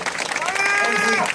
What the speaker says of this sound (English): Let's give Mick and Phil a massive round of applause, because every year these guys come.